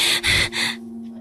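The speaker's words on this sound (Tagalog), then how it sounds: "Hinihingal na nga ako" Girl panting after a long walk: three loud, breathy gasps in quick succession, close up, followed by a faint steady hum.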